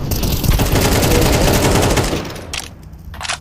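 Rapid automatic gunfire in Counter-Strike 2 on the Dust 2 map, a loud dense burst of shots lasting about two seconds, followed by a couple of sharper isolated cracks as the firing tails off.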